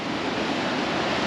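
Waves breaking at a small beach cove in Mallorca, a loud, steady wash of surf noise filling the moment, with no voices heard.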